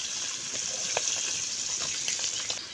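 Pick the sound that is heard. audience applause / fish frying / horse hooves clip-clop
fish frying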